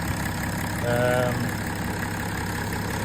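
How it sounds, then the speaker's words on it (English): A BMW M57N diesel engine in a Range Rover P38 idles just after a new alternator is fitted, a steady, close mechanical hum with a faint whine holding even throughout. "so that's her started with the new alternator running"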